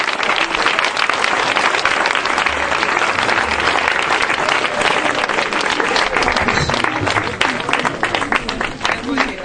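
A church congregation standing to applaud and cheer for Jesus, dense steady clapping and shouting filling the room close and loud throughout, with voices mixed into the crowd noise.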